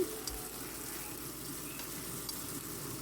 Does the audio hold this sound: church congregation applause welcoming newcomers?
no